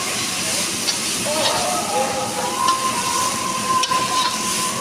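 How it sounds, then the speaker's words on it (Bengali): Soaked, washed rice fries in a kadai for muri ghonto with a steady close hiss, faint tonal whines drifting above and a few light clicks of a spatula. "সেই চালটাকে এখন আমি কড়াইতে দিয়ে ভেজে নেবো"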